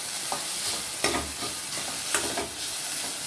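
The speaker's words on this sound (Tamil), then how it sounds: "இதை ஒரு நிமிஷம் மட்டும் கொஞ்சம் வதக்கிக்கணும்" Steady sizzle of onions sautéing in oil in a pan, with a couple of sharp scraping stirs cutting through the constant crackle.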